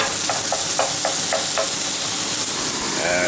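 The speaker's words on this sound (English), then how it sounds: "We mix that with some garlic and onions." Mint, garlic and onions stirred in a hot pan: six or so rhythmic spatula scrapes over a steady, loud sizzle, then continued frying hiss with no voices.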